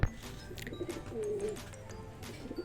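Pigeons coo nearby in soft, throaty phrases, with one longer drawn-out coo in the middle and fainter rustling and chirps around them.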